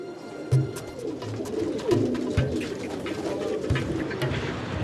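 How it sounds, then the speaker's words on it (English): Tumbler pigeons, a breed kept in Iran for their tumbling display, coo in soft repeated low calls at close range against a faint outdoor background. "The tumbling display, a specialty of this breed, has given them their other name, tumbler pigeons."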